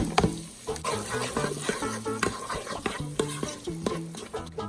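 Diced onions sautéing in melted butter inside a pressure cooker, with a steady close sizzle broken by frequent scraping and clacking of a stirring utensil against the pot.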